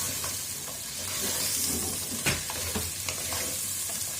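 Oil sizzles steadily in a pot of stew with chickpeas while a spoon stirs, giving a close, constant frying hiss broken by a few soft scraping knocks, with no speech.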